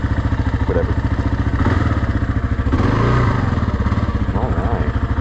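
A Kawasaki KLR650 dual-sport motorcycle engine, just started, idling close by with a rapid, even chugging pulse and a slight rev partway through.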